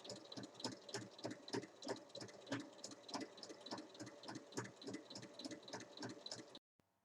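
A sewing machine topstitches around a passport case, its needle thumping in a fast, even rhythm for about six and a half seconds at a fairly faint level before stopping.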